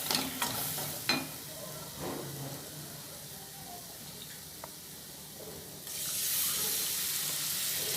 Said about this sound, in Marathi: पाणी घातले थोडंसं